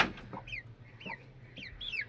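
A chicken clucks several times, short rising-falling calls repeating about every half second, close and fairly quiet over a low steady hum.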